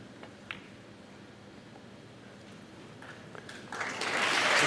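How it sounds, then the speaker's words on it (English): Spectators applaud at the 2019 Masters snooker semi-final, the clapping faint at first and swelling loudly near the end. "to clap his every shot"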